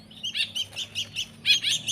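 A tame pet songbird chirps in a quick series of bright, high tweets, with a louder cluster of calls near the end, close by and alone.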